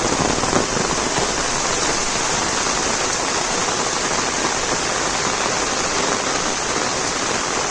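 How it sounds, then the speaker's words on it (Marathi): Heavy monsoon rain in the Konkan pours down as a dense, unbroken roar that stays steady and loud throughout, with no voices. "यावर्षी तू सर्वात जास्त जोरात पाऊस लागता आहे"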